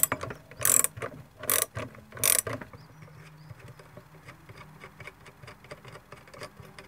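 A ratchet on Bahco hedge shears being used to unscrew a nut, giving a series of sharp bursts of clicking followed by a softer, regular ticking at close range.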